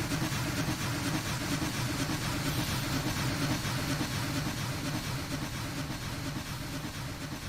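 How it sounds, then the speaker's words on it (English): A Challenger steam locomotive in Train Simulator Classic works hard climbing a grade, a dense continuous roar of exhaust and rolling machinery holding steady throughout, with no voices. "We're driving the Smokebox Challenger up Soldiers Summit. We're working pretty hard."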